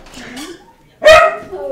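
A pet dog barks loudly in a single short burst near the microphone, following a stretch of quieter speech-like sound.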